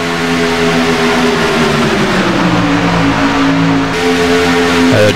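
Race truck engines at Daytona in a racing video game drone loudly and continuously, pitch shifting slowly as trucks run in a pack, with a brief change near the end and no talking.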